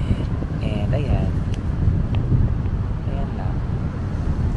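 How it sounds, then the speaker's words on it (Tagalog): Strong gusty wind buffets the microphone with a constant low roar at Puraran Beach, Catanduanes, mixed with the wash of ocean waves and faint voices in the background. "Malakas yung hangin at alon."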